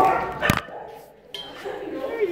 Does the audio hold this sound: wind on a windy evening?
no